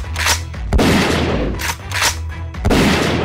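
Loud shotgun blast sound effects come in repeated heavy booms, each followed by a rough decaying roar, spaced about a second apart.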